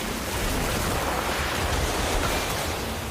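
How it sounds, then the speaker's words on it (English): A water orb spell cast in a Harry Potter video game, a dense rushing whoosh of surging water that stays loud and steady for a few seconds with no voices. "Orb of water."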